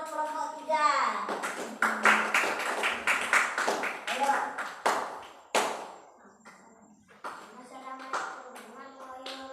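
Classroom group clapping hands together for another student group, a ragged burst of claps mixed with children's chatter and voices, fading into talk after a few seconds.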